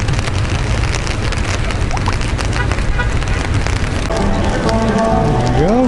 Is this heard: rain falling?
yes